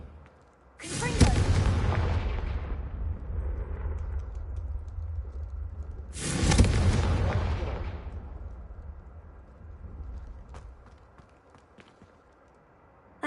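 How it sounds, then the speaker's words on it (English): Confringo explosive fire spell cast in a Harry Potter video game: two loud, sharp blasts about five seconds apart, each trailing into a long rumbling roar that fades slowly. "The first time Ominous and I practiced Confringo, we singed our eyebrows"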